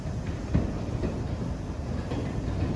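A diesel multiple unit train rumbles through a station, a steady low rolling drone with faint rhythmic wheel clicks, heard from nearby with no talk.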